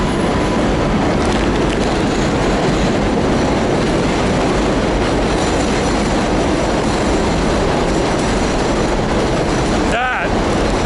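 A subway train rumbles past loudly and continuously with rail noise and a brief wheel screech near the end, heard on a street in Jackson Heights.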